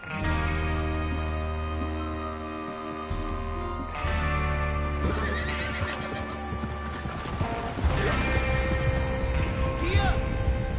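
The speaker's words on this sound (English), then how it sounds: "Get your horses ready." Horses neigh and hooves clip-clop in Red Dead Redemption 2, with a gang gathering to ride out for a train robbery; whinnies and steady hoofbeats sound close over game music while someone talks.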